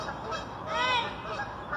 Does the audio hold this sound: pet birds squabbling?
yes